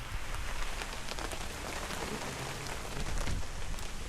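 Steady rain pattering on a surface, a dense continuous hiss with scattered drop hits throughout and no voices.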